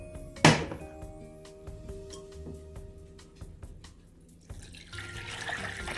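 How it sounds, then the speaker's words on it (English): Hot water runs from a kitchen tap into a pot over cooked Bob Evans pork sausage, starting with a sharp splash and then a steady, moderate rush of flowing water with faint clinks. "I'm going to cover it with hot water."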